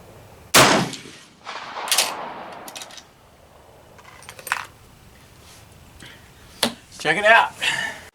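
A Swiss K31 rifle fires at an outdoor range, giving one sharp, loud close shot early on. A few quieter clicks and bolt-like clatters follow, and someone talks near the end.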